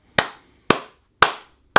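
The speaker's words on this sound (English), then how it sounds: "a very slow clap." Four slow, evenly spaced hand claps ring out, each a sharp close smack with a short decay, about half a second apart in a deliberate rhythm, with silence between them.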